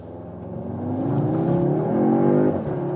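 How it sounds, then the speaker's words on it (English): A 2024 Audi S3 facelift accelerating hard from standstill out of a corner: the engine note rises steadily through the revs, loud and close, with a smooth climbing whir and no talk. "One more time, acceleration from standstill, but out of the corner."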